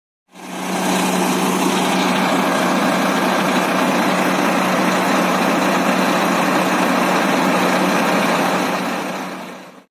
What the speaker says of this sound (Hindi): चलिए अभी इस गाड़ी का शानदार इंजन साउंड